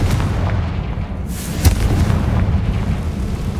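A Confringo fire blast spell goes off in the Hogwarts Legacy video game: a sustained booming rumble with one sharp, bright burst near the middle, loud and without voices.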